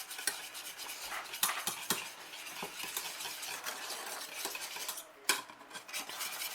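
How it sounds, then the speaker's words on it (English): A whisk clinks and scrapes against a bowl as beaten egg yolks are worked into caramel for a banana caramel tart. The taps come in quick irregular bursts, close but fairly quiet. "Right, whisk it in nice and good."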